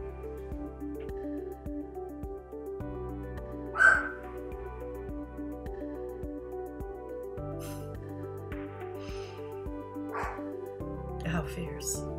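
A pet dog indoors gives a short, sharp bark and a few softer yips at a noise outside, heard faintly over steady background music with a person talking.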